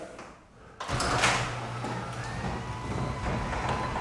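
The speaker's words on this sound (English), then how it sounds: "So we're able to open up the garage door." A garage door opener raising a garage door during a house inspection, a sudden start followed by a steady mechanical rumble and hum as the door travels, heard up close.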